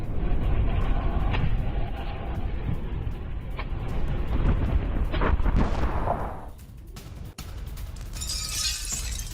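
Heavy, rumbling blasts from airstrikes on a Hezbollah missile launcher site in Lebanon, a dense run of booming impacts and crackling debris that ebbs, then a sharp crack and a renewed roar, loud with no talking.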